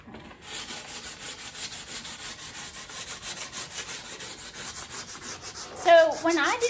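Steady, close rubbing and scraping as chalk paint and candle wax are worked off the edges of a painted wooden vanity, a continuous gritty sanding texture with a louder scrape near the end.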